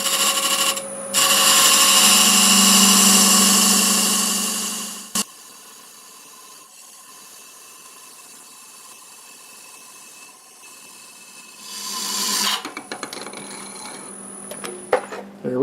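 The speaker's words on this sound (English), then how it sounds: "I'll use my parting tool. I'll just kind of cut it down through the middle" A parting tool cuts through a workpiece spinning on a wood lathe at about 750 RPM, a loud broadband scraping hiss that runs for several seconds, drops to a quiet motor hum, then rises again in a second cutting pass.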